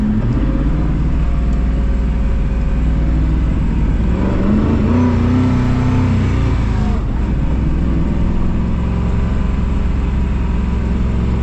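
A Koenigsegg CCX supercar on the Autobahn, its engine droning loud and continuous from inside the cabin with a rising pitch sweep midway as it pulls harder, no voices over it.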